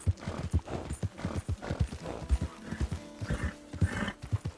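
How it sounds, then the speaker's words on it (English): Horse hooves clip-clop in a steady, fairly close rhythm on a hard surface, with whinnying mixed in between the hoofbeats. "Oh, my poor horse, man."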